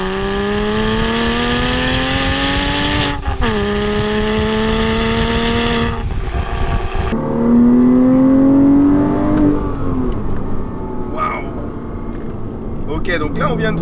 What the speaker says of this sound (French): Le son de ton échappement modifié, il est quand même bien envoûtant,